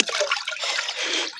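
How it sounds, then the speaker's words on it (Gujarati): Water from a bucket is poured through a cloth filter into a drum on a farm, making a brief, close splashing trickle. "અમે પાણી ત્યાં કુંડીમાંથી ડોલો લાવીને અહીંયા ગળીને રેડીએ છીએ"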